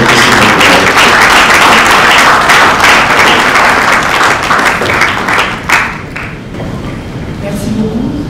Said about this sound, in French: Sous vos applaudissements, très bien.